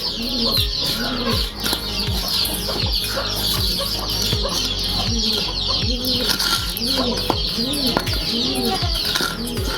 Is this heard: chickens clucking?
yes